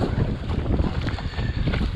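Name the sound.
headwind blowing on the water while kayaking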